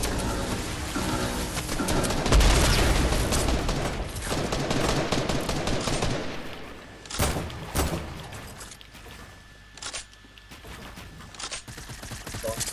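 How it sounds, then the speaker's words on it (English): Rapid bursts of gunfire in a Fortnite battle royale match, a dense crackling fusillade through the first half that thins into scattered shots and isolated bangs, some close and loud, others more distant. "they're shooting at me"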